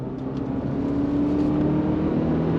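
A 2025 Subaru Forester Sport accelerating on throttle, heard from inside as a steady engine drone with a slowly rising hum, fairly loud and continuous.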